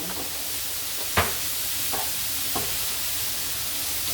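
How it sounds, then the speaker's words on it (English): Zucchini sautéing in a dash of olive oil in a pan that held bacon, giving a steady broad sizzle with a few sharp utensil clicks against the pan, close and alone. "we're going to use that bacon pan, and I'm going to put just a little dash of olive oil, and I'm going to saute the zucchini"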